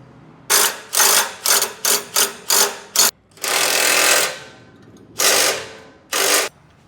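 A 3/4 inch ratchet snugging lock nuts on Toyota Tundra rock slider bolts: a quick series of short, sharp clicking ratchet strokes, then a longer run and two more bursts, close and distinct with no talking.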